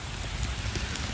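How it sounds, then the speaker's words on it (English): Heavy rain pours down outdoors in a steady, dense hiss of drops hitting the ground, continuous and fairly loud with no talk over it. "Rain is coming down, Brownstown."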